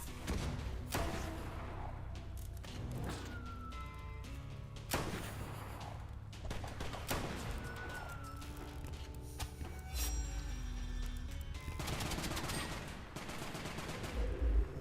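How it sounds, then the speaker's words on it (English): Bursts of gunfire ring out in the action video game West of Dead, several sharp shots and rattling volleys spaced through the stretch over a low game backdrop, fairly quiet overall with no talk. "Just keep shooting them."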